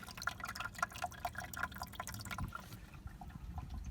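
Water drains from the bottom of a whisky barrel planter holding soil and a citrus tree, heard as close, irregular drips and trickles that thin out toward the end.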